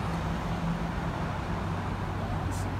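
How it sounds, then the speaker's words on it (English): A steady, continuous rumble of road traffic comes from the main road beside a pond in Lowndes Park, Chesham. The wash of passing vehicles is unbroken and evenly loud throughout. "It's next to the main road though, so you hear a lot of traffic."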